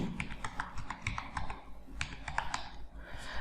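Quick, light keystrokes on a computer keyboard as a ration card number is typed in, a steady run of close clicks with a short pause midway, fairly quiet.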